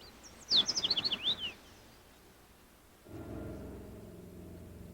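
Migrating warblers in a Belize forest give a quick burst of high chirps and trills, fairly close, followed by quiet and then a low rumble.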